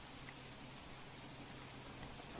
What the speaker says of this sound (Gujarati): હવે આ જામનગર દ્વારકામાં ધોધમાર વરસાદી માહોલ સર્જાયો છે